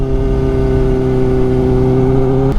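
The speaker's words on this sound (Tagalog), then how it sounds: "Ingay nung aking motor. Maingay din pala siya." A motorcycle engine idles loudly and close by, a steady droning hum with a rough exhaust rumble that holds constant throughout.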